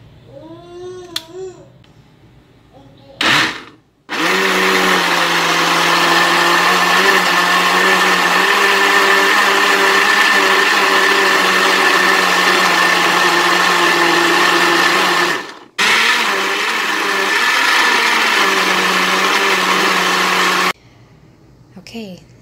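A kitchen blender whirs loudly through a vegetarian patty mixture, a sustained motor drone with a brief cut partway and a restart, bracketed by short bursts at the start and end, with a voice talking briefly before it starts.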